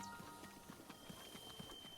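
Horse hooves galloping in Zelda: Breath of the Wild, a quick regular clip-clop rhythm at moderate distance, fairly faint, with a soft tonal game background underneath.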